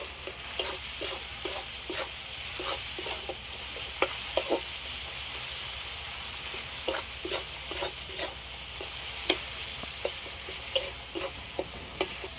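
Chilies, onions and other ingredients sizzle steadily in a hot pan while a spatula scrapes and stirs, giving irregular sharp clicks and scrapes over a continuous frying hiss, close and fairly loud with no voices.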